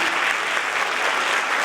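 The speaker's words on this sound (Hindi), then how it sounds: "आपकी तालियां बजती रहें।" A large audience claps steadily, a dense, even wash of applause with no pauses.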